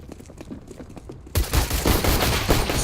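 Burst of Counter-Strike gunfire on the de_cbble map, a loud sudden volley of shots that starts partway through after quieter clicking and movement, no talk.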